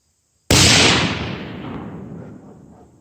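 A single sharp, loud rifle shot from a custom Remington 700 chambered in 6.5 Creedmoor, cracking out of silence and then rolling away in a long fading echo across an open range.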